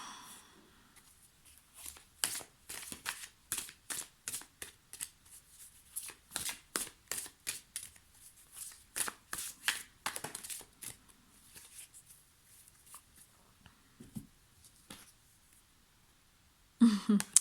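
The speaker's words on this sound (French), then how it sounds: "Je vais retirer une carte." Tarot cards shuffled close by in quick rhythmic bursts of soft riffling clicks, then a pause before a single louder card draw at the end.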